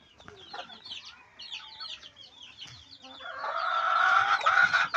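Native chickens cluck and call nearby on a farm, with short scattered clucks building into a louder, continuous squawking chorus toward the end.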